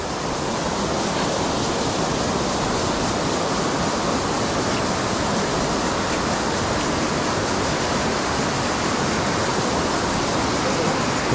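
Water flows and spills steadily over slippery rocks, a dense rushing wash that stays close and even from start to finish, with no talk.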